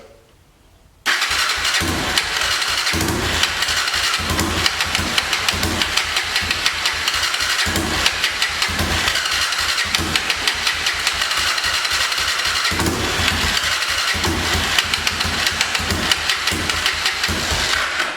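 A Honda TRX300EX ATV engine, its carburetor suspected of being gummed up, cranks and catches after a brief quiet moment, then runs loud and close with a steady, slightly uneven pulsing idle.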